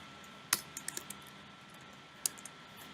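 A few quick keystrokes on a computer keyboard while code is typed, two short clusters of light clicks close by with a pause between, no voice.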